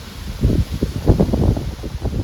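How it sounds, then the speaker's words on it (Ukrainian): Strong wind gusts buffet the microphone on the seaside cliff at Bulbjerg, Denmark, in low, irregular rumbling bursts, loud and close, with no voices. "Дуже вітряно."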